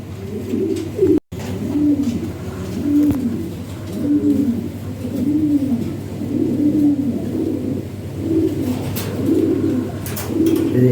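Fancy European Lahori pigeons coo in a steady chorus of repeated rolling phrases, close by, broken by one brief dropout near the start.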